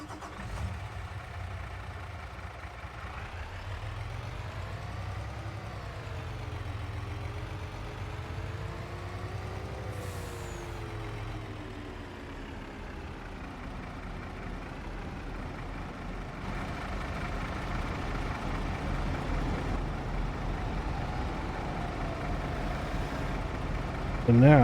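Truck engine in Farming Simulator 25 idling and revving, a steady mid-pitched drone that rises and falls in pitch a few times, fairly close, with some background game sounds and no talk.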